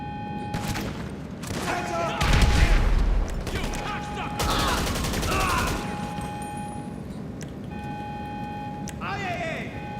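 Gunfire in GTA 5 Online during a nightclub goods sell mission: a dense burst of shots and impacts near the middle, with game music and engine noise running throughout and someone talking over it.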